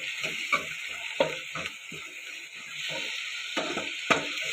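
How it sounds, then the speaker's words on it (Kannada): Tomatoes fry in an oiled pan for a North Karnataka-style stuffed eggplant curry. A steady sizzle runs throughout, broken by several scraping stirs of a spatula, close and clear. "ಟೊಮ್ಯಾಟೊನ ಈ ರೀತಿ ಫ್ರೈ ಮಾಡಬೇಕು, ಚೆನ್ನಾಗಿ ಫ್ರೈ ಮಾಡಬೇಕು."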